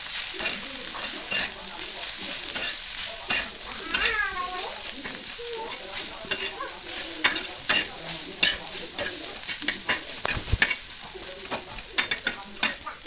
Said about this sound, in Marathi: त्यात तेल टाकून भाजी टाकलेली आहे मिक्स केलेली.